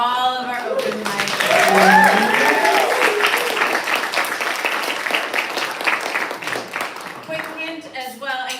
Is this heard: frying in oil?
no